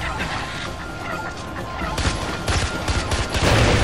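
Bursts of gunfire and a blast in the video game Far Cry 4, loud dense crackling with heavier booming thumps building toward the end.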